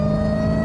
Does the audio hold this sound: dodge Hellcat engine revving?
yes